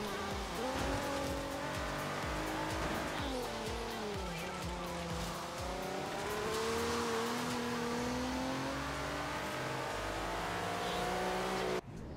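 An Audi roars through a race in Forza Horizon 3, its engine revving steadily and shifting pitch through gear changes, with tire squeal, loud and continuous from start to finish.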